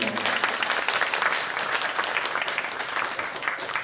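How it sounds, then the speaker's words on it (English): Audience applause for Dharmacharya at a Hindu community honours ceremony, a steady, dense wash of clapping from a large crowd filling the whole stretch at even loudness, with no voices over it. "Please give him a big round of applause."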